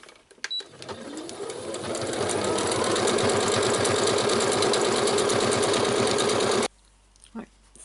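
A sewing machine runs a straight stitch, speeding up to a fast, steady, rhythmic clatter for several seconds, then stopping abruptly; brief clicks come before and after.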